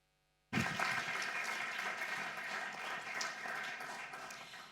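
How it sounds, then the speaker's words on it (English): Applause breaks out abruptly after a moment of near silence at a documenta fifteen welcome session, a steady, moderately loud clapping that carries on evenly to the end. "a big applause to everyone"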